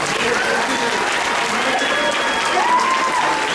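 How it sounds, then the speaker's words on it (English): A school assembly audience of middle and high school students applauds a song performance. Steady, dense clapping fills the hall at an even level throughout. "They deserve one more round of applause."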